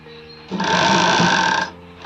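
A sewing machine sews the neck strip of a readymade sleeveless kurti in a single close, loud, continuous whirring run of about a second, starting and stopping abruptly over a quiet background.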